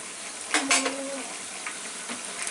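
Chicken vegetable rolls frying in oil in a pan, a soft steady sizzle broken by a couple of metal clinks and turning scrapes, no voices.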